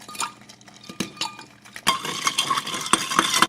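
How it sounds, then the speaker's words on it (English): Ice cubes tumbling and clinking into a cup of cold brew lemonade, a few sharp clatters followed by a denser rattle of ice settling against the cup. "Cool it down with your ice."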